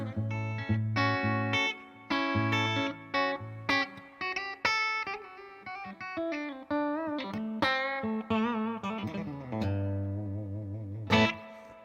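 A Reverend Jetstream RB electric guitar is played through its bridge pickup with heavy distortion: a string of chugging chords and riffs with clipped stops, then a sustained ringing chord, loud and close with no talking.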